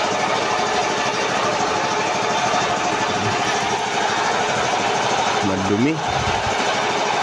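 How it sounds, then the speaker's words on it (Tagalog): An air compressor runs with a loud, steady mechanical drone during an oil-change job on a turbo machine, and a voice speaks briefly over it. "Pinandar natin yung compressor"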